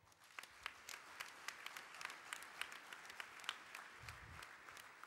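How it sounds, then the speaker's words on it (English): Audience applause at a tribute dinner, a steady wash of many hands clapping with a few sharper nearby claps standing out, heard fairly faint and distant throughout. "And so a round of applause."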